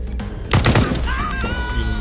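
Gunfire in the video game Wasteland 3: a sudden burst of shots near the middle, loud and close, followed by ringing tonal game effects that trail off.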